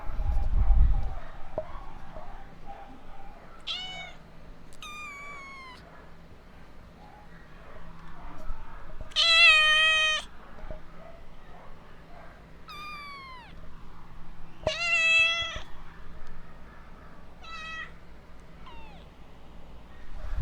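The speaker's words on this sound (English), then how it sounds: "I hope you enjoyed these cat sounds" Pet cats meowing indoors, with a string of separate meows spaced irregularly, some longer and rising, at moderate loudness over a quiet background.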